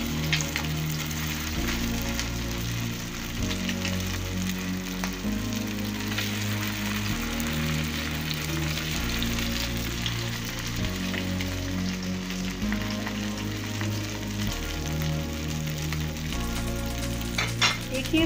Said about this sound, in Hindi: अब मैं इसे पैन में तल लूंगी।